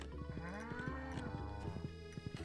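A cow in the farm game Stardew Valley moos once, a soft, drawn-out low call set over faint rhythmic background game music and ticks.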